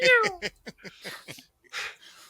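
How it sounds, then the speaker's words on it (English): A cat lets out a short, loud, falling howl at the very start, then gives way to a string of brief voiced sounds like talking, all indoors in a room. "the howl of the kitty cat rang through the room"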